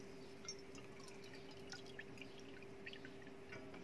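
Water poured into a pot of rice while cooking chicken masala, a faint, steady trickle with small splashes and drips under a low hum, quiet and continuous throughout.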